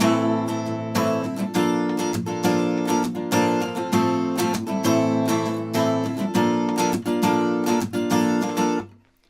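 Acoustic guitar strummed in a steady down-up pattern with short muted stops breaking the rhythm, close and fairly loud, playing a song, with no talking, ending abruptly.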